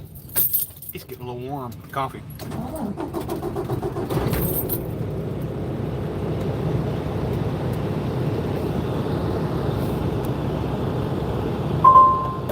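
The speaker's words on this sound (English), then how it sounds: "I'm going to turn this truck back on." Keys jangle briefly, then a truck engine starts and settles into a steady, loud rumbling idle that runs to the end, with a person talking over it.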